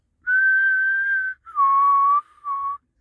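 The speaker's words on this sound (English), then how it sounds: "how many people these days know how to whistle" A person whistles three sustained, fairly loud notes up close, a long steady tone followed by two shorter ones with brief pauses between, no voice alongside.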